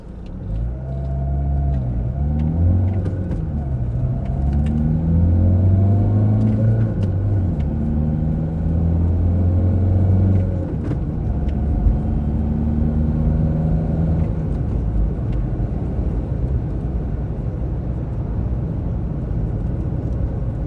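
A Renault 1.5 dCi diesel car, recently given Delphi injector repairs, pulls away from a standstill in first gear and climbs through the gears; the engine drone rises in pitch with each gear, loud and steady from inside the cabin.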